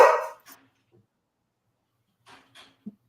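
Short dog bark from a soundbite, one loud burst at the start, then a few faint scattered thumps and small noises after a stretch of near silence.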